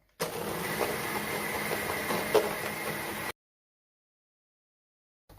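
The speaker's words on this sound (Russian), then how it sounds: "Взбиваю масло до посветления и увеличения в объеме." An electric mixer whips softened butter until pale and fluffy, giving a steady, close whirring drone for about three seconds before cutting off to silence.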